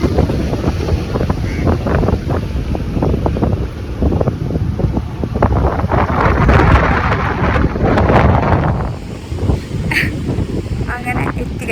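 Ocean waves roll in at a beach on a sunny day under rain clouds, heavy surging washes over strong wind buffeting the microphone, loud and close, with a voice heard faintly under the noise.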